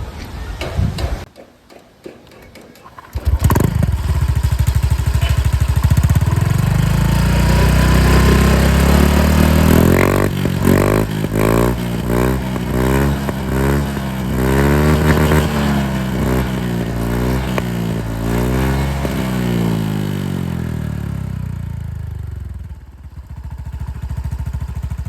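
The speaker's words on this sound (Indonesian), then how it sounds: "Ini produk original dari Sasol X-Speed yang tipe moncong Shijiro pakai sarangan full. Kita cek sound di motor Scoopy." A Honda Scoopy scooter fitted with a Sasol Xsped Shijiro-style exhaust with full baffle starts up after a short pause, then revs repeatedly in rising and falling sweeps before settling back to idle. The sound is loud and close, with no talking.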